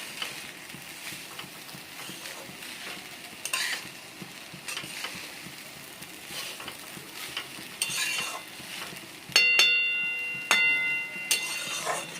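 Flattened rice (chire) for polao frying lightly in a pan makes a soft, even sizzle with repeated clicking scrapes of a stirring spoon and a few brighter metallic taps near the end.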